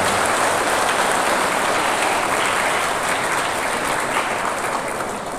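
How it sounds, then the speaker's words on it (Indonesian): A church congregation applauds a children's choir during a Mass for the Epiphany, steady dense clapping filling the room from start to finish with no break. "kita beri tepuk tangan untuk kur cilik ini"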